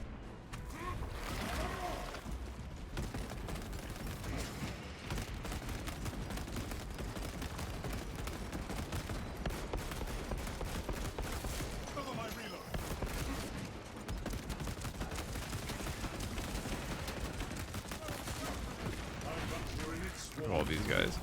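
Sustained heavy bolt rifle fire in a Warhammer video game, a lone heavy gunner blasting through a Tyranid swarm, with loud continuous booming shots and chaotic battle noise throughout.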